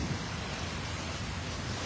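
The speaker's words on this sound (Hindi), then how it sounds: "ये देखिए भाई, रिमझिम बारिश, और ये धीरे धीरे जो है तेज" Rain at a bus stand in Losal turning from drizzle to a heavier downpour, a broad steady roar of falling water with no voices, loud and unbroken.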